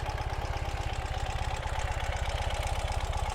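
A 2018 Ural Gear Up sidecar motorcycle, Cascade Green, idles steadily nearby with a fast, even low-pitched thump and a mechanical rattle on top, running alone without voices.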